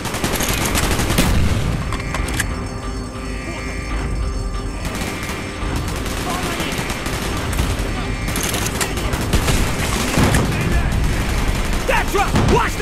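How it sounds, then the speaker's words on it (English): Gunfire in the Call of Duty Black Ops video game: sustained bursts of automatic fire and scattered shots, loud and dense, with battle chatter in the mix. "Gunfire's drawing attention."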